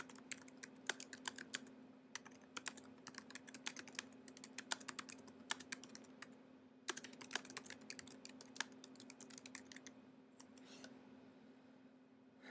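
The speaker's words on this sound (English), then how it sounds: "and then I type in the phrase or whatever it is that I want to make into a link." A phrase being typed on a computer keyboard: steady, fast, quiet key clicks continuing for the full stretch over a faint constant hum, with no speech.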